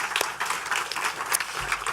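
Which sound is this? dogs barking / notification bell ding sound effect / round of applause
round of applause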